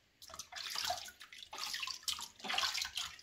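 Water sloshes and splashes in a filled sink while a Pomeranian puppy is washed, coming in uneven bursts of moderate loudness that rise and fall without pause.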